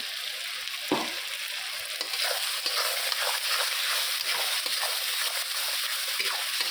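Onions fry in hot oil in a home kitchen, a steady close sizzle broken by occasional stirring scrapes, with no talking.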